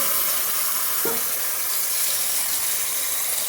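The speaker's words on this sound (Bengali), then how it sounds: "জলটা দিয়ে দেবো এখন বাটিটা দিয়ে জল দিয়ে দিচ্ছি" Boiled tamarind water hits hot mustard oil in a pan, giving a loud, sustained hissing sizzle with a brief splash of pouring near the start.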